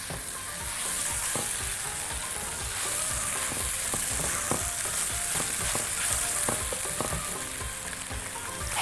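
Chicken pieces with mushrooms fry steadily in a hot pan, a continuous close sizzle broken by soft scrapes and clatters of stirring, with no talking.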